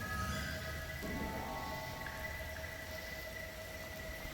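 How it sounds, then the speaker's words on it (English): Heavy rain pours down steadily with rumbling thunder during a storm at an abandoned lot of rundown firework truck trailers, a dense continuous roar close around the listener with no talk. "It's raining super hard."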